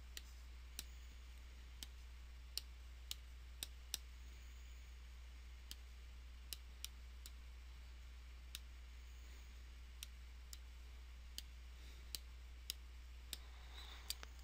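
Keys on a graphing calculator are pressed one at a time, making faint, sparse plastic clicks at irregular intervals over a steady low hum.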